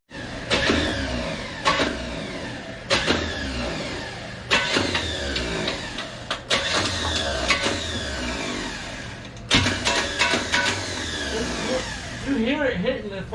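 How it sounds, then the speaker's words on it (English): A car starter, freshly fitted after an engine swap, cranks in repeated short bursts and grinds against the flywheel, loud and close, with no start; voices talk over it at points. "You hear it hitting the fucking flywheel."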